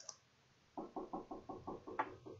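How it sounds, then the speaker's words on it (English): Someone knocks on a back door from a distance, rapping eight or nine quick, fairly faint knocks in a steady series. One slightly sharper tap lands near the end. "Now my mom's knocking on my back door"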